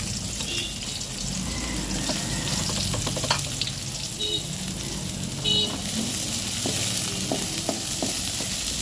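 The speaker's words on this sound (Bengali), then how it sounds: "গরম করার পরে এখন তেল দিয়ে দিয়েছে। এখন পেঁয়াজ রসুন কুচি দিয়ে দিল।" Chopped onion and garlic sizzle in hot oil on a tawa for a tempering, a steady close frying hiss broken by a few faint stirring clinks.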